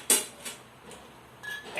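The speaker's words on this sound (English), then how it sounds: "Stir all these ingredients." A spoon scrapes and clinks against a pot of curry ingredients on a stove, with two short, fairly loud strokes near the start and softer scraping after, alone with no talk.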